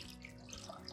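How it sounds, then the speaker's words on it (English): Cold water poured from a tap into a saucepan over eggs, a soft, faint splashing and trickling close by, with no talk. "pour cold water over the top"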